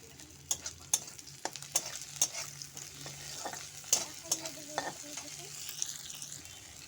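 Chopped onion and ginger fry in a pan for mutton soup: a steady soft sizzle broken by repeated sharp scrapes and taps of a spoon stirring, close and fairly quiet.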